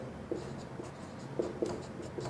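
Chalk or pen writing numbers on a board, scattered short taps and scratches at an uneven pace, faint and close, with no talking.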